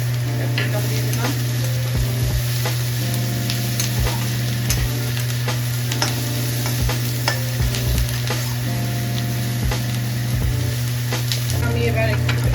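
Capsicum sizzles steadily in a hot pan for soya chilli while a spatula scrapes and stirs in repeated rhythmic strokes, loud and close, over a constant low hum.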